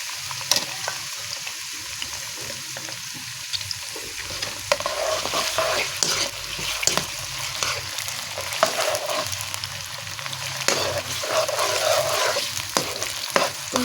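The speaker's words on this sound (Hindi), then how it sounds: "ये देखिए हम अब इसके अंदर प्याज डाल देते हैं। मैंने प्याज डाल दिया जो काटा हुआ था।" Chopped onions fry in a pot for pulao, a steady sizzle broken by repeated scrapes and clinks of a spoon stirring against the metal, close by.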